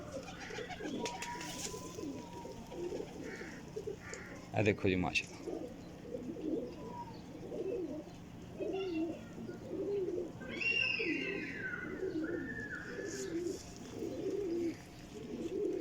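Breeder pairs of pigeons coo softly and repeatedly in a loft, a low rhythmic murmur that runs throughout. Someone talks over the birds, and there are a few brief knocks.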